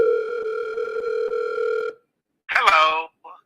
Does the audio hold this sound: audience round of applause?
no